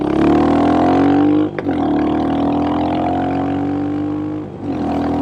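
A Crazy Mongoose RE 350 hot rod built by Baxter Custom Works drives on pavement, its engine droning loud and close with a steady rising tone, briefly dipping twice as the revs shift.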